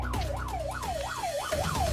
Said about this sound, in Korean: 구급차가 고속도로 갓길로 달려갑니다